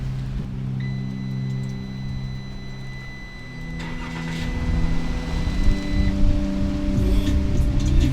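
A Ram ProMaster van engine starts by remote start partway through, cranking and catching, then settles into a steady, fairly loud idle that continues to the end, with no talking.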